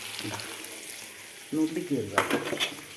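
Chicken coated with a little chicken masala fries in a pan, giving a soft, steady sizzle that grows louder and busier halfway through, with faint voices in the background.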